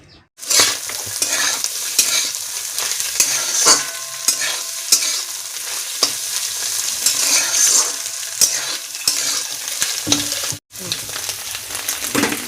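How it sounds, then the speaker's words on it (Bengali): Potatoes and eggs fry with onion in a pan, a loud, close, steady sizzle with frequent stirring scrapes and clanks, briefly cut off near the end before resuming; no talking. "এখানে আলু আর ডিম একসঙ্গে ভেজে নিলাম পেঁয়াজ দিয়ে"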